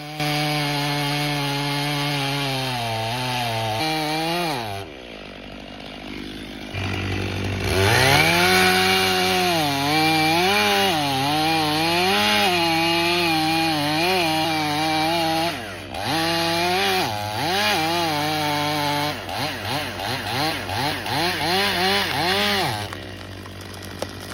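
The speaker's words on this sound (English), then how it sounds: "In his hand, he holds a roaring chainsaw." A chainsaw roars and whines through oak wood, pitch rising and dropping as it bites in, loud and close, with brief pauses between cuts.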